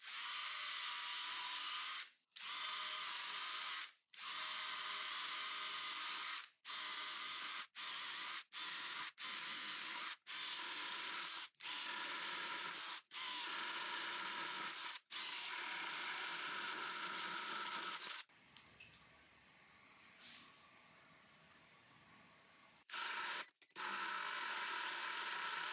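An Evolution R13CMB-Li cordless drill bores with a 40 mm hole saw, whining loudly in repeated close bursts cut by short pauses, with one longer quieter gap near the end before it spins up again.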